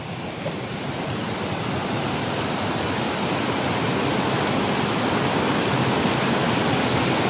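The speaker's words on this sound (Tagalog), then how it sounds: "Pero grabe yung ragasaan ng tubig." Floodwater rushes in a dense, steady roar during Typhoon Uwan in Mindoro, loud and continuous without a break.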